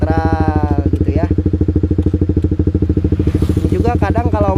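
A motorcycle engine idles loud and close with a steady rapid pulse while the clutch is held in and the gearbox is shifted to neutral, with brief clicks and a voice speaking over it near the end.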